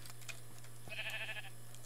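Pink sheep in a modded Minecraft world give a short, bright, game-style bleat in the middle. A steady low hum and a few faint clicks sit underneath.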